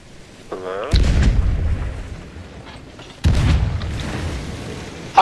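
Ship cannon fire in Sea of Thieves: two heavy, loud booms a couple of seconds apart, each with a long rumbling tail, near and prominent.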